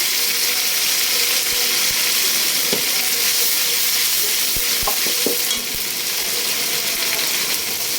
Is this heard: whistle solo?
no